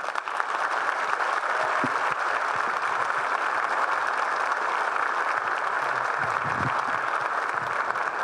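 Applause for the keynote speaker at a college fall convocation, a large audience clapping in a dense, continuous wash at steady loudness, with a few faint low thumps beneath.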